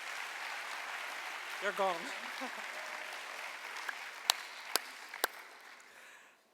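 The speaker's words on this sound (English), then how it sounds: "please give them another round of applause" Quiet, steady applause from a general assembly audience continues under a brief spoken remark, followed by a few sharp clicks or thumps.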